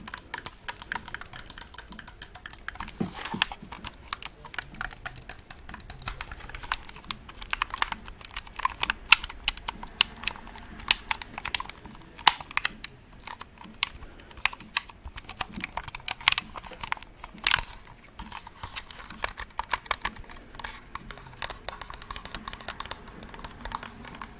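Shoulder buttons on game controllers clicked over and over at close range, giving sharp, light taps in uneven bursts against a quiet background, with no talking.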